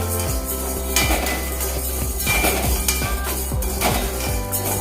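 Dry lentils rattle and scrape in a metal pan as they are dry-roasted and stirred, with repeated clinks and scraping strokes over a steady low hum.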